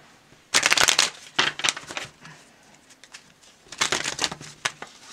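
Two bursts of tarot cards being riffle-shuffled, crisp and close, with a quiet pause between them.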